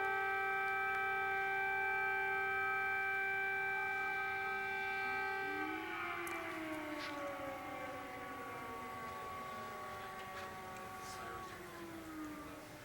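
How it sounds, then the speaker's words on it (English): An air raid siren wails in a steady tone, then winds down in pitch and keeps droning more faintly, distant and continuous with no talk. "There's the sirens again."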